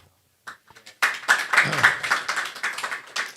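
An audience claps loudly after a brief quiet lead-in, a dense, continuous burst of many hands close by, rising and falling for several seconds.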